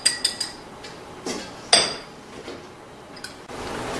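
Ingredients for a black sesame dressing, including milk and sugar, are dropped into a bowl in a kitchen, with several sharp clinks and knocks of utensils against the dish and quiet pauses between them.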